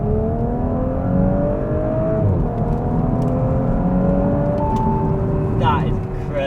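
An Audi S4 B9 pulls away on a Cornwall road, engine note rising in steady pitch sweeps as it accelerates through gears, loud and close from inside the car, with a brief shift dip midway.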